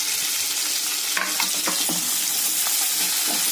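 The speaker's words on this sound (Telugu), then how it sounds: "కరివేపాకు వేసి కొంచెం ఉడికే వరకు కలుపుకోవాలండి." Curry leaves and onions sizzle steadily in a hot pan while a utensil stirs them, with several distinct scraping strokes over the constant loud frying hiss.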